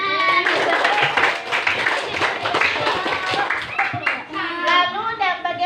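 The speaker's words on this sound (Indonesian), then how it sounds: "Tepuk tangan." Elementary school pupils clapping their hands during a class storytelling performance, quick irregular claps in a bright room while children's voices sing out and chatter over them.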